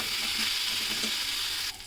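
Soaked mung dal frying and being stirred in a pan, a steady close sizzle with faint scraping, cutting off abruptly near the end.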